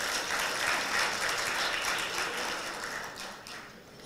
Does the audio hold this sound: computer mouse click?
no